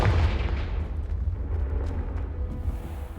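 Confringo blasting spell in Hogwarts Legacy on PS5 lands with a deep, rolling boom that lingers as a sustained low rumble, loud and close with no voices.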